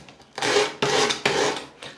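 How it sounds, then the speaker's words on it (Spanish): Three rasping sanding strokes against a handmade wooden ring, each about half a second long, close and fairly loud, followed by a brief lighter scrape. "ya vamos a lijar esta parte de acá para reducirlo, hacerlo un poco más fino y que sea parejo."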